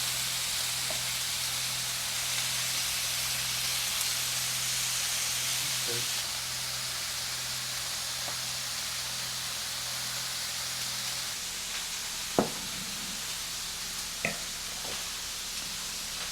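Steak bites sear in a pan with a steady, close frying hiss that holds for the whole stretch, with a few faint clinks near the end and no talking.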